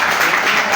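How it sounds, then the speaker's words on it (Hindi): A burst of dense applause for a film producer fills a short moment at a media event promoting an upcoming film. "इसके लिए प्रोड्यूसर के लिए तो तालियां"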